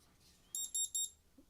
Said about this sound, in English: I heard a beep, beep, beep